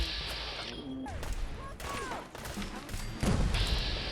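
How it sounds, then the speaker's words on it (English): Fallout 4 combat with grenades going off and gunfire: scattered thumps and crashes with shot-like bursts over a busy game soundscape, building to a louder burst near the end, no one speaking. "Oh, I do not like the fact that people are throwing grenades."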